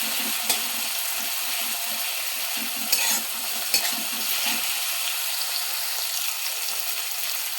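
Garlic paste sizzles steadily in a pan while a spoon stirs it in soft, irregular scrapes, with occasional louder knocks against the pan; no voices, just the continuous close frying hiss.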